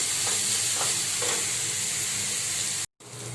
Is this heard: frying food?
yes